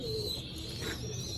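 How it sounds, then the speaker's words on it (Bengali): Golden and teddy pigeons coo softly in a low, steady murmur, with a thin high tone running through. "এখানে আছে এক জোড়া টেডি পায়রা"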